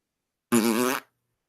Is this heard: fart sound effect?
yes